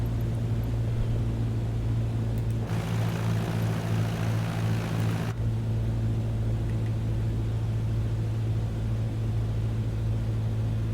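A Cessna propeller plane's steady engine drone in Microsoft Flight Simulator as it comes in to land, a constant hum with a burst of rushing noise in the middle, no voices.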